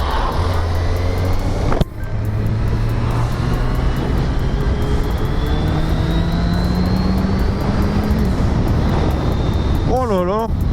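A 1990 Suzuki GSX-R 1100 four-cylinder motorcycle engine drones loudly and continuously, its pitch rising and falling as it is ridden, with wind rush and a short warbling tone near the end.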